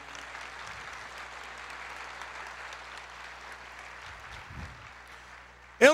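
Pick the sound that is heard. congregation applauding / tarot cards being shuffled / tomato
congregation applauding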